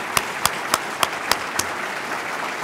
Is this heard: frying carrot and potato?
no